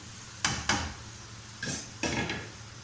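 Meat being stir-fried for Sheikhi karahi in a pot with red chilli powder, salt and cumin seeds: four distinct scraping, sizzling strokes of a spoon against the pot over a low background hiss, close and moderately loud, with no talking.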